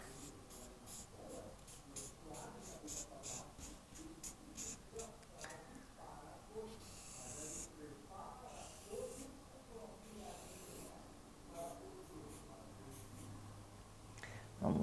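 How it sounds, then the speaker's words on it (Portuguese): Pen drawing a plant on paper during a second-grade science lesson, a steady run of soft scratchy strokes with brief pauses, close and fairly quiet, with faint background murmur. "eu vou até tentar desenhar uma planta aqui"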